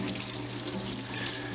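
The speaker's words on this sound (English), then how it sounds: "You really want to make sure you rinse off your fish with cold water" Cold tap water runs steadily into a sink while bluegill fish are rinsed beneath it, a continuous close splashing stream with no pauses.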